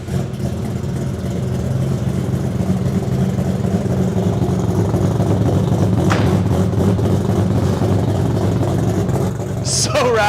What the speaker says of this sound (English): I actually want you guys to hear how this engine sounds